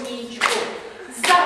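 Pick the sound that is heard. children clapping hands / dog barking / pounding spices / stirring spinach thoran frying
children clapping hands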